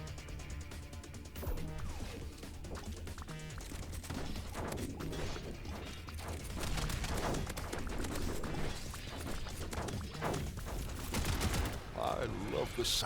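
A mortar keeps firing in the Down With The Ship video game, blending with rapid crashing impacts and mechanical clatter into a dense, continuous barrage of moderate loudness.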